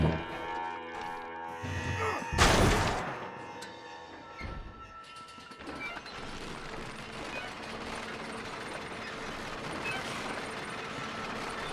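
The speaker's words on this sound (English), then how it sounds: "Load up and I'll engage the gears." Lift gears engaging in Red Dead Redemption: a loud mechanical clank and ratcheting burst near the start, then a steady grinding machinery rumble as the lift runs, with no talking.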